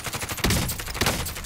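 Sniper rifle fire in Call of Duty Warzone, two sharp reports about half a second apart amid dense, noisy game audio, with no talk.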